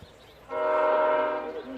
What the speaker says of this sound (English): Hear the train going off over here on the tracks closest to the county soccer complex